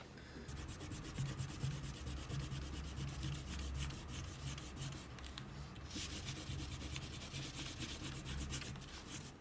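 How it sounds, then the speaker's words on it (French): Eraser rubbing back and forth over paper to remove pencil construction lines, a steady close scratchy friction with rapid repeated strokes, alone without talk. "On peut gommer nos traits de construction."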